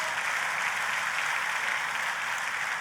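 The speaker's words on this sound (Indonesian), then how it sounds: "Tepuk tangannya boleh paling meriah buat Tuhan kita." A church congregation breaks into steady, dense applause during a worship service, a continuous wash of clapping with no pauses and no clear voices over it.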